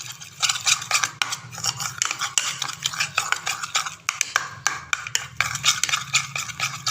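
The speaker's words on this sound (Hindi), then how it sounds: "अच्छे से मिक्स कर लें," Spoon scraping and clinking around a bowl while a paste is mixed smoothly for sticking chicken-vegetable bread snacks together, a steady, close run of metallic stirring taps and scrapes with no talking.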